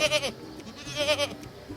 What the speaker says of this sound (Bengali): নওয়াপুর গ্রামে এক চাষির ঘরে মিনু নামে এক ছাগল থাকত